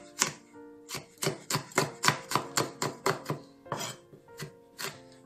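A knife rapidly minces chili peppers on a cutting board while making a sweet-and-sour pork crackling dish, with a steady run of about a dozen sharp, close chopping strokes and no talking.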